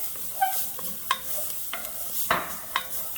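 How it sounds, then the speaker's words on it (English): Minced garlic sizzles in hot oil with a steady, close hiss broken by a few sharp spatula scrapes and stirring clicks, and no one speaks. "the oil is ready. It's sizzling."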